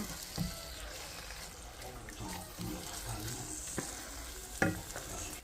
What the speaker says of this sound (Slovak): Potom pridáme makaróny do toho a všetko to spolu zmiešame.